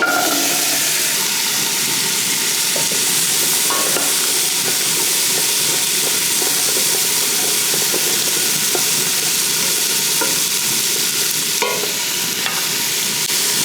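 Onions, carrots and celery sauté in three knobs of butter over medium heat, giving a steady, fairly loud broadband sizzle that runs unbroken with faint stirring clicks scattered through it.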